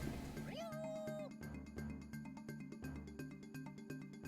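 A small kitty king cat in the My Life as a King game gives one clear rising meow over steady rhythmic game music.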